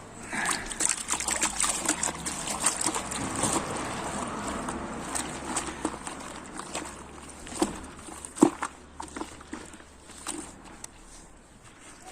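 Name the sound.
pouring car shampoo into water for car washing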